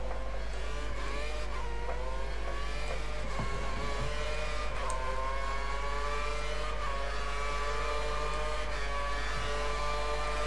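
A Caterham Formula One car engine screaming at high revs through a hot qualifying lap at Australia in the F1 2013 racing game, with continuous loud whining tones rising and falling through gear changes, heard alone.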